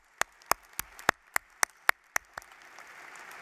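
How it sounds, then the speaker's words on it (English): Sparse, evenly spaced handclaps sound at a university undergraduate commencement, about nine crisp claps in a steady rhythm. They then give way to a soft, rising wash of broader crowd applause. "Give them a big, warm applause."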